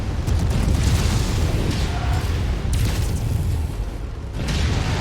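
Mech exploding in the MechWarrior 5 video game, a dense, loud rumbling blast sustained for several seconds, with crackling bursts layered over a deep low roar.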